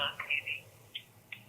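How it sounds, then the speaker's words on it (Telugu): On an outgoing call in a Telugu TV advice program, a thin electronic ringback tone pulses quietly in short repeating beeps, faint and slightly distant, with a brief bit of voice at the start. "కాల్ చేసేస్తానండి అరుణకి"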